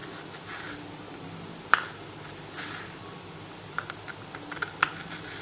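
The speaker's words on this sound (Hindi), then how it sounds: "कोई भी तेज़ नाइफ़ ले लें और इसको छोटे टुकड़ों में काट लें।" A sharp knife chops frozen strawberries into small pieces on a board, giving a few scattered crisp clicks and taps at close range over faint background hiss, with no talking.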